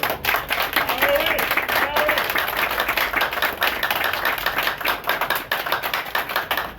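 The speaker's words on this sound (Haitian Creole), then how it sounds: "Je m'a demandé de nous battre un gros bravo pour nous, pour Jean-Jacques Dessalines qui est là." An audience at a gathering on Jean-Jacques Dessalines applauds, dense steady clapping from many hands that continues for several seconds.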